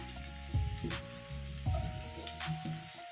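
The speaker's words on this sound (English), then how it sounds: "Let that cook down a bit for like 2 to 3 minutes." Garlic frying in a pan for a beef liver dish makes a steady close sizzle, with periodic stirring scrapes and clatters over the hiss and no voices.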